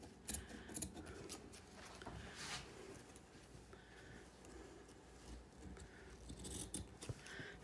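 Scissors cut fabric for a patchwork journal cover in a quiet, close series of soft snips and rustling scrapes, uneven in rhythm and continuing throughout.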